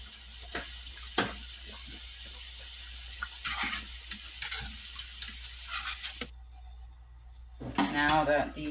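Homemade curly fries or batter pieces sizzle in hot oil, a soft steady crackle with sharp ticks and clinks of a utensil against the pot, and a voice speaking near the end.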